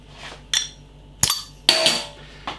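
A 330 ml bottle of Astra Rotlicht Ale, a 6% ABV German ale, is handled and opened, with several sharp metallic clicks and a hiss as the cap comes off, close and clear with no talk.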